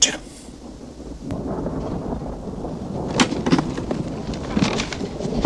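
Thunder and heavy rain in a Western film, as riders reach the outskirts of a frontier town; steady downpour hiss with a sharp crack early on and rumbling bursts later, under a background voice.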